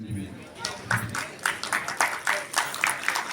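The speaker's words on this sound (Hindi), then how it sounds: "जोरदार तालियों से खड़े होकर आप अभिनंदन करें।" A standing audience at a national convention of a Dosar Vaishya community society greets an arriving guest. Their clapping is loud, rhythmic and in unison at a quick, steady beat, with voices mixed in.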